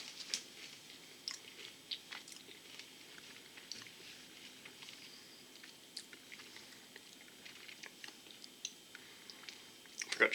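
Miss Vickie's jalapeño kettle-cooked potato chips being eaten, with close, crisp crunches and chewing in an irregular rhythm against a quiet room, one bite louder near the end.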